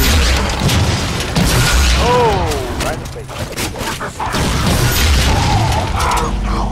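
Rocket explosions in the shooter Halo 4 during a Spartan Ops mission, with loud booming blasts and mechanical clatter over swooping sci-fi effects and busy combat noise, and a voice talking between the hits.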